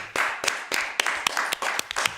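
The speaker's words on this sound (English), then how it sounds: "What you begrudgingly clapping for?" About nine sharp hand claps in a slow, even rhythm, close and fairly loud, with no talking over them.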